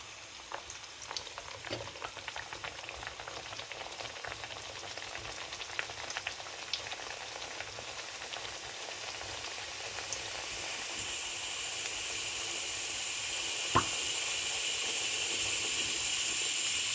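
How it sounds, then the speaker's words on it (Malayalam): Beetroot puris deep-fry in hot oil, giving a soft continuous bubbling hiss that swells slightly toward the end, with faint scattered crackles and one brief clink near the close. "ഇങ്ങനെ എണ്ണ ഒഴിച്ച് കൊടുക്കുമ്പോൾ നമ്മുടെ ഊരി നല്ലതായിട്ട് പൊങ്ങി വരും"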